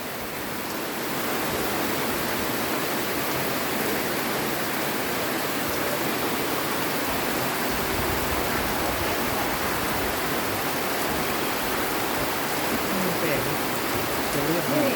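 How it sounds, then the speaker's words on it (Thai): A heavy downpour falls around a pier entrance. It makes a constant, broad rushing wash that swells in during the first second and then stays steady and fairly loud to the end. "ฝนตกแรงอยู่นะคะ"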